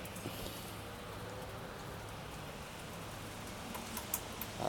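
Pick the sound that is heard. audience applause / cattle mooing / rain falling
rain falling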